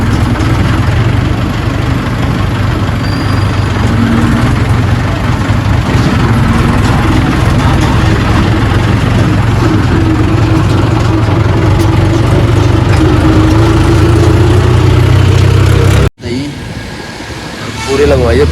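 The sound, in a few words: vehicle engine running while the vehicle turns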